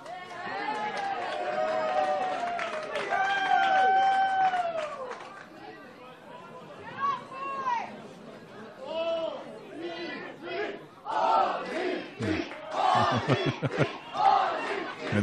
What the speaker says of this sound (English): And as I say, the crowd get vocal, they get even more vocal.